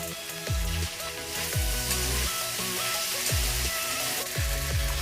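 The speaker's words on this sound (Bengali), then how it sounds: "ভালো করে নেড়ে চেড়ে ভাজবো যাতে তলায় না বসে যায়" Jackfruit and shrimp frying in a pan give a continuous bright sizzle, steady and close, with stirring throughout; a repeating musical pattern plays underneath.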